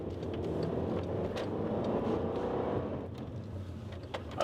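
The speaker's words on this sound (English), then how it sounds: "It's a 4-cylinder engine too. Just listen to that." A 2009 Volkswagen Passat CC four-cylinder engine hums and builds as it accelerates, heard from inside with road noise underneath, moderately loud and continuous.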